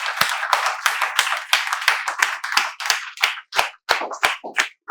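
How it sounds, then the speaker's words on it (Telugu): A group of children clapping together in welcome, a sharp, rhythmic run of close handclaps that starts dense and thins toward uneven, separate claps near the end. "ఇదిగో మా పిల్లలందరూ మీకు చప్పట్లతో వెల్కమ్ చెప్తున్నారు."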